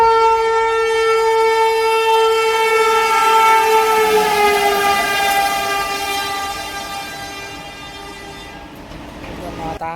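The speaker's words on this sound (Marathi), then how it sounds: "आता रेल्वे येत आहे." A train pulls into a village railway station, sounding a long, loud, sustained horn blast that holds steady and then slowly fades, with the rumble of the rail cars continuing underneath toward the end.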